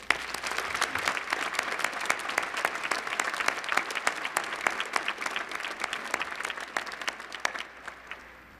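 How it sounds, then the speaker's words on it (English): Audience applause at a university spring commencement, a large crowd clapping in a dense, even roar for several seconds that fades out toward the end, heard from some distance. "Let's give them a round of applause."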